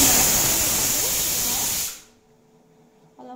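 Rice cooking in a pressure cooker lets off a loud, steady hiss of escaping steam for about two seconds, then cuts off abruptly, leaving a quiet room with a brief faint clatter near the end.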